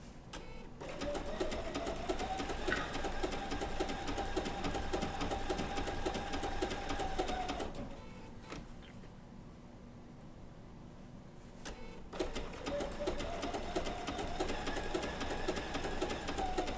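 A Bernina B790 PRO sewing machine with a 20C open toe foot stitches wool applique in steady whirring runs, pausing briefly in the middle before starting up again, close and clear with no talk.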